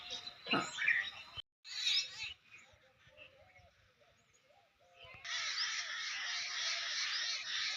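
Crows caw loudly at the start on a rural melon farm morning near a tamarind tree, a few harsh calls followed by quieter chirping of sparrows in the tree and then a steady broadband hiss in the background.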